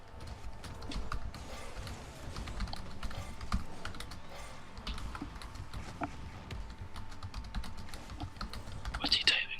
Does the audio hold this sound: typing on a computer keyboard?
yes